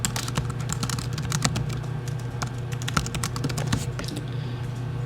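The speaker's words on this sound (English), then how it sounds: "as you're typing away and adding more code" Rapid, uneven keystrokes clatter on a computer keyboard while code is written in Xcode, close and fairly steady for several seconds with a few louder taps, no voices.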